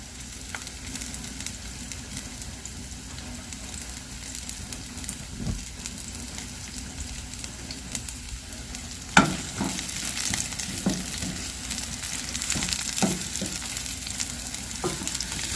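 Onions and lemongrass sautéing in a pan, a steady close sizzle and crackle of frying with occasional stirring scrapes and a sharper clatter partway through, no talk.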